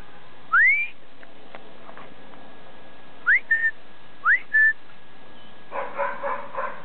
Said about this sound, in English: Just getting their attention with a little whistle.